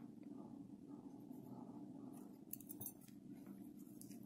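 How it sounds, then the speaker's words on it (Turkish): Scissors snip through a crocheted yarn knot while an amigurumi mouse ornament is being joined, a few quiet, close clicks near the end over a faint low background hum. "Düğümü içeri alıp kesiyorum."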